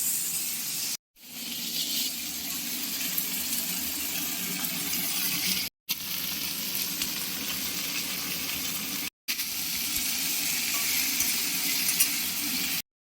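Chopped potato, pumpkin, jackfruit seeds and carrot frying in a pan, a steady loud sizzle with stirring noises, interrupted by three brief silent cuts, no voices.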